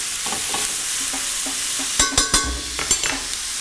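A sauce reducing in a pan, with a spoon stirring and scraping through it and a few sharp clinks of the utensil against the pan's side over a low, steady bubbling.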